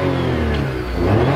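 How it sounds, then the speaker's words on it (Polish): Polish three-cylinder car engine revs briefly, a loud, close, throaty rise in pitch with no voices over it. "Posłuchajcie tylko brzmienia tej trzycylindrowej jednostki."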